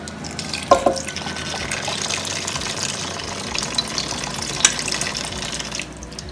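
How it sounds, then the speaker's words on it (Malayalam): Water streams steadily into a cooking pot holding tomatoes for Udupi rasam, a continuous close splashing pour broken by a couple of light knocks against the vessel. "ഇനി ഇതിലേക്ക് നമ്മൾ 4 കപ്പ് വെള്ളം തന്നെ ഒഴിക്കാൻ പോവാം"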